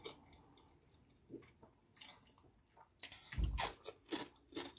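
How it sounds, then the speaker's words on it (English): Close, quiet chewing and wet smacking as Ghanaian kenkey dipped in shito pepper sauce is eaten, irregular bites with soft squishes, louder toward the end. "put some shito, then I eat."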